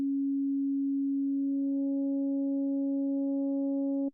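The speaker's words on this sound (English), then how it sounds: "Just got a basic sine wave." A plain sine tone from an Ableton Operator synthesizer holds steady and clean for about four seconds, with faint upper harmonics creeping in before it cuts off.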